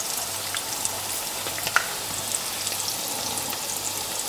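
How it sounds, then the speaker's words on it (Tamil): Sri Lankan masi vadai fry in hot oil with a steady, close crackling sizzle throughout, broken by a few small pops and no voices. "ஒரு பக்கம் நல்லா பொரிஞ்சிட்டு இப்போ நாங்கள் திருப்பி மற்ற பக்கத்தை பொரிய வைக்கிறோம்."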